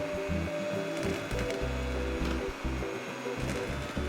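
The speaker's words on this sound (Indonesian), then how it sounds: "kita bisa langsung memixer abon dengan kecepatan sedang seperti ini" An electric mixer runs at medium speed through shredded beef floss, giving a steady motor whir with uneven grinding and chopping pulses as the meat shreds, close and moderately quiet, with no voices.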